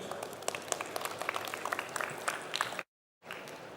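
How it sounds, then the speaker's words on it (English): Applause from a conference audience for a speaker, a thinner crowd where individual claps stand out as sharp, uneven hits, broken by a brief silent gap near the end. "please give a round of applause to Tim."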